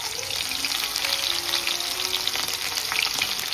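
Beaten garlic and green chillies sizzle steadily in hot oil, a dense, continuous frying hiss at close range with no voices over it.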